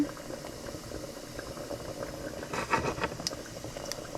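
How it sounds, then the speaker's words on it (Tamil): Beef curry boiling in a pot, a soft continuous bubbling with scattered louder pops and crackles in the second half, fairly quiet and close. "சோம்பேறி பீஃப் கொதிச்சுக்கொண்டிருக்கு"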